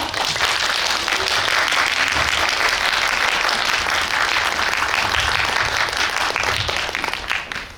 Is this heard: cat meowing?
no